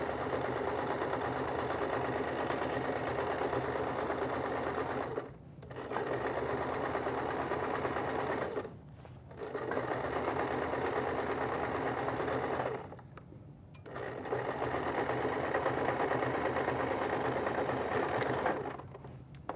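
A sewing machine back stitches an apron in long continuous runs of fast, even whirring, stopping briefly three times before starting again, close and loud with no talk.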